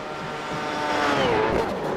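A V8 Supercar's engine in the iRacing video game roars at full throttle on the Bathurst circuit, a steady loud drone that sweeps in pitch and swells slightly toward the end.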